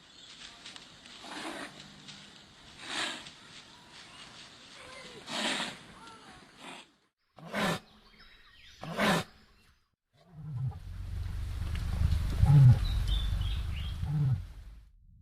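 A cassowary gives a series of deep, booming low calls, then a long rumbling roar-like call, loud and close with quiet gaps between calls and no talk.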